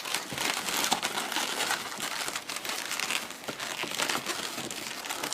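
A red modelling balloon is squeaked and crinkled as it is twisted and locked onto another balloon body while building a Mickey Mouse figure, with close, continuous rubbery rubbing and small sharp creaks throughout.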